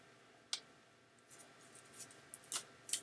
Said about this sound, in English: I'll put the mic down while I am shuffling the cards here.